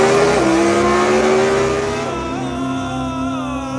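A Lamborghini Huracan fitted with a Kline exhaust system revs loudly and close, its engine note climbing and then dropping through a raspy, harmonic-rich howl before settling into a lower, steadier drone.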